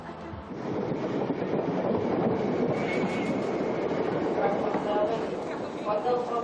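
A Waterloo to Chessington South passenger train rumbles steadily along the rails with a continuous roar and some faint high squeals toward the end.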